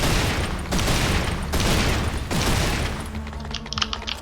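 Heavy weapon fire from the Devastator in Serious Sam 4: a dense, loud barrage of booming blasts fills the whole clip, with distinct heavy hits at roughly regular intervals and crackling debris toward the end.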